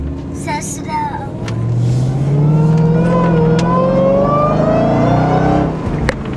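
A Dodge Hellcat Redeye fitted with a Corsa performance cold-air intake accelerates hard, its supercharger whine rising steadily in pitch over a loud engine roar, close to the listener with talk faintly underneath.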